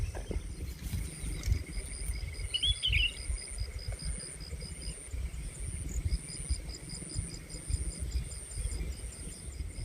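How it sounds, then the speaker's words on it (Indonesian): Steady chorus of insects and scattered bird chirps over low rustling in a tea plantation in the morning, continuous and moderately faint, with no talk. "burung-burung masih kedengaran berkicau."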